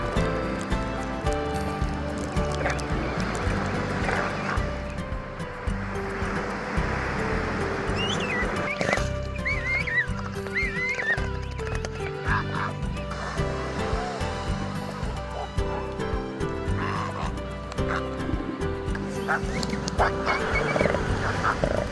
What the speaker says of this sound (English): Deafening roars will often deter the challengers